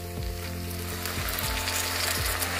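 Hot water goes into a sizzling pan of Bengali egg curry with green chilies, giving a loud, steady close-up frying hiss broken by a few soft stirring scrapes.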